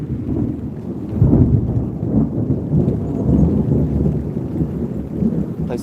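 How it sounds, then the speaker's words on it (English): Thunder rumbles through a rainy Florida swamp preserve, deep rolling booms swelling and fading under constant steady rain, loud and continuous with no voices. "Thunder sounds scary."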